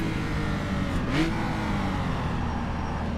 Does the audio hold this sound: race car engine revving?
yes